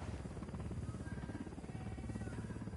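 A helicopter in the video game Ghost Recon Wildlands gives off a steady, droning rotor hum with a dense low rumble, holding even and fairly close across the whole short stretch with no talking over it.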